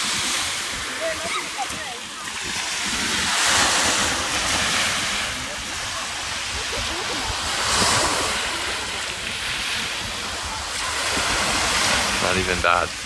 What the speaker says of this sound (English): It's a regular day at the beach, and it's Saturday, and it's not even crowded here.